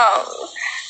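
A single short nasal quack, close and fairly loud, tapering off in under a second.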